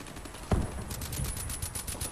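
Gunfire in Call of Duty Advanced Warfare multiplayer, a sharp close shot followed by a rapid run of fainter automatic rounds over steady game ambience.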